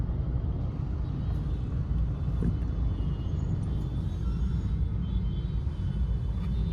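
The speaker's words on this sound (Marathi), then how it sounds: "हा ट्रॅफिक बघा, ट्रॅफिक घोडबंदर रोडला पोहोचलोय आपण." Road traffic on Ghodbunder Road: a steady, loud low rumble of passing vehicles and engines that continues unbroken throughout, with no talk.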